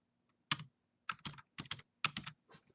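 Keys clack on a computer keyboard in short, uneven bursts of a few strokes each, close and clear with quiet gaps between them.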